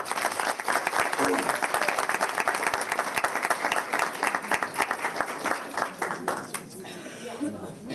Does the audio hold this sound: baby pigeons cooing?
no